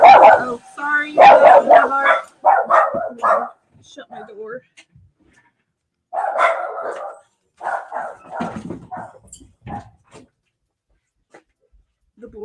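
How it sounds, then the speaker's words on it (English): Several dogs barking in short repeated bursts at home, fairly close and loud, with pauses between volleys and a person speaking briefly. "The dogs are barking."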